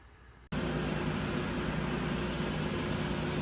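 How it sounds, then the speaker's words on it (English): A 2000 Toyota 4Runner engine starts and settles into a steady, loud idle, a continuous low rumble with a mechanical hum that runs on unchanged after the start. "So the truck is running."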